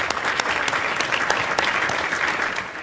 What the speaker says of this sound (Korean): 이 시간 영광의 박수 한번 올려드리면 좋겠습니다